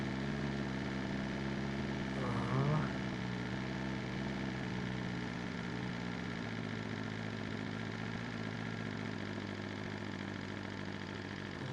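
A motorcycle engine in a video game idles steadily throughout, a constant mechanical drone with a brief rev near the start.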